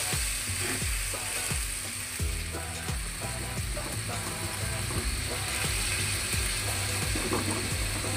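A moong dal bati chorchori mixture being stirred in a pan, with a sizzling bed of frying beneath repeated scraping, knocking strokes of the spoon against the metal, close and busy throughout.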